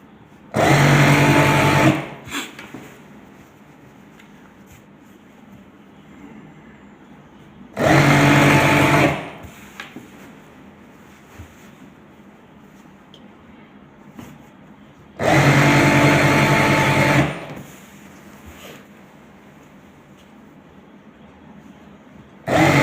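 An electric sewing machine stitches the side seam of trousers in three loud, steady whirring bursts of about two seconds each, with quiet pauses between them where cloth is handled.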